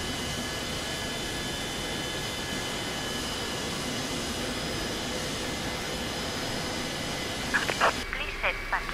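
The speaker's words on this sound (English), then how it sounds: "Starting engine number 1" Boeing 727 engine number 1 spooling up in a flight simulator, a steady broadband jet roar and whine that holds throughout, with a few brief clicks and tones near the end.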